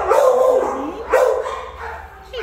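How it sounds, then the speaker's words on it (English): Several dogs bark and yip at an animal shelter in San Antonio, loud and close in short bursts with a whimpering tone, over a fairly quiet background. "Those noisy doggies scare you."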